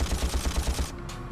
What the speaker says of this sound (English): So they're already shooting at us